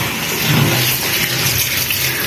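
Tap water runs steadily and loudly into a bowl while polao rice is washed, a dense continuous splashing gush with no talking.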